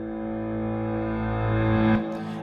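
Reversed low piano note swells steadily louder over about two seconds and cuts off abruptly at its peak, a sustained tone rising from soft to loud with no talking.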